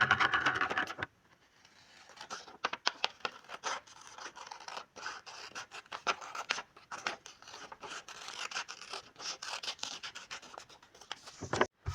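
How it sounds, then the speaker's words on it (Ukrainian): Scissors snip through coloured paper along a wavy line in a quick, irregular series of close crisp cuts, with rustling of the paper between snips. "І вирізаємо її."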